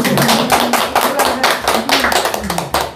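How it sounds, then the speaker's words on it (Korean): An audience claps in a steady burst of rapid, close hand claps, loud and dense for a few seconds with a voice faintly underneath. "저 정도는 박수 한번 쳐야 될 것 같아요"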